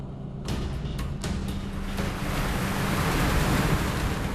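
Ocean waves surging and wind blowing steadily at sea around a fishing boat hauling nets, a continuous loud wash of surf with gusty wind noise and a low rumble, with no voices.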